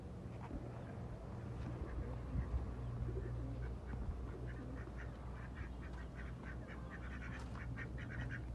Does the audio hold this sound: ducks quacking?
yes